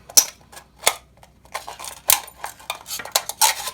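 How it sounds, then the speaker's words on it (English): An aluminum pop can is cut straight down toward its base, giving a series of sharp, close metallic snips and crinkles in irregular bursts with brief pauses between them. "I'm just going to cut straight down to the bottom."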